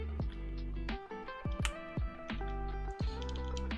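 Keys clack on a newly built Neo98 computer keyboard in a series of separate taps over a steady background hum.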